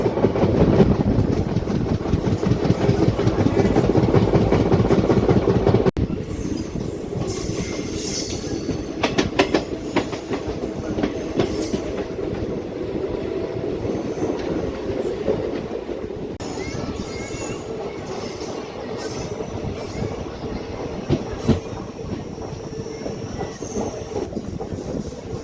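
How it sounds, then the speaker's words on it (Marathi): Koyna Express passenger train running slowly after Karad as it approaches Targaon railway station: a continuous close rumble of rolling wagons with squealing wheels and rhythmic clatter over the rails, and no talking. "कराड स्टेशन नंतर गाडी बघा एकदम हळूहळू चालत आहे आणि काही वेळातच आपली गाडी तारगाव रेल्वे स्टेशनवर"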